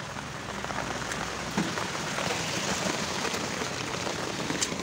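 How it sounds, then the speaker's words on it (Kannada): Steady rain pours onto an airport road in Hyderabad, Telangana, a dense unbroken hiss of drops striking wet pavement, close and even throughout with no voices. "ಈ ರೀತಿ ಮಳೆ ಬರೋದು ಒಂಥರ ಚೆನ್ನಾಗಿರುತ್ತೆ."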